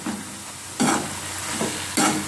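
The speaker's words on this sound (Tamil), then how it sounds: "புதினாவும் கொத்தமல்லியும் போட்டு அதையும் நல்லா வதக்கி விடுவோம்" Mint and coriander leaves sautéing with onions in a pan for mutton biryani, with a steady sizzle and three scraping stirs at regular intervals, close and alone.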